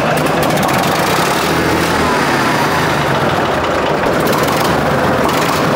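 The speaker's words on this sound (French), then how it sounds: "Un Sam Condor 55, il fait 55 chevaux. Et ça c'est un tracteur de wheeling les gars. C'est un moteur 3 cylindres." Same Condor 55 tractor, a 55-horsepower three-cylinder engine, running loud and steady close by, a continuous dense rumble with no pauses.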